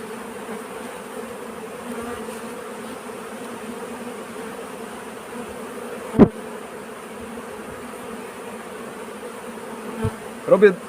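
A low, steady drone of many honey bees buzzing close by at a hive, continuous throughout with a few brief knocks and bumps.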